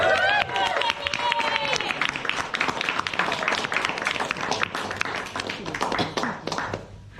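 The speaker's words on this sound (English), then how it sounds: "So give her a round of applause." Audience applause for a woman who completed a Mount Kilimanjaro world-record climb, a crowd clapping steadily throughout with some voices and chatter mixed in.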